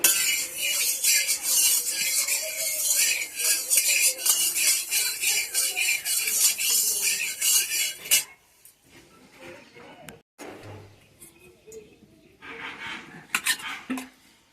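Large chunks of fish fry in a pan with a loud, steady sizzle for about eight seconds, then the hiss drops away to quieter pan and utensil clatter.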